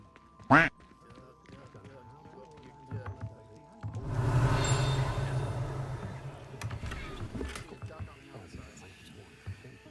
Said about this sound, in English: Upstairs, I'm hearing ducks